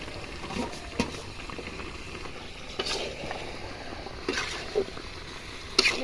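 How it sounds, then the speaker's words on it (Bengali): Chicken and potatoes frying in a pan while being stirred, a soft bubbling sizzle with intermittent scraping and knocking of a spoon against the pan, close and fairly quiet. "কিছুটা এবার আমি নেড়ে নিচ্ছি আমার মাংসটা প্রায় সেদ্ধ হয়ে আসছে এবার এর মধ্যে আমি আলুটা দিয়ে দিচ্ছি"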